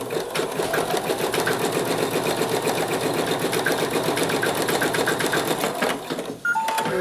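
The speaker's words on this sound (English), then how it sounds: "I'm going to hit go. And it's going to make the seam across here." Sewing machine stitching a seam across a quilted owl mug rug, a fast steady mechanical whir with rhythmic needle ticking that runs close and continuous, then stops with a brief click near the end.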